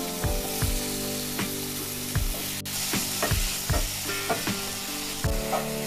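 Onions and tomatoes frying in a pan for a village-style garlic curry, a steady close sizzle broken by rhythmic spoon scrapes and taps against the pan roughly every half second.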